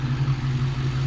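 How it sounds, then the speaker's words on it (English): A car engine runs close by with a steady low hum that rises slightly as it is revved, a brief loud drone without voices. "So let's give a little more revs."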